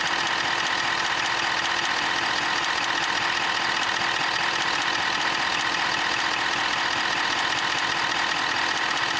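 A 2022 Ford F-350 with a 10R140 transmission idles steadily during a fluid level check, a constant close-up engine drone with an even mechanical hum and no talking.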